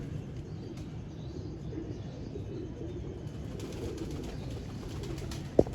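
Lakhi Sialkoti female pigeons coo softly and repeatedly, a low, murmuring call that carries on steadily at moderate distance, with one brief sharp click near the end.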